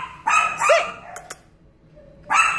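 A senior dog at the Stanislaus County animal shelter in Modesto gives several sharp, loud barks and yips up close, separated by short pauses.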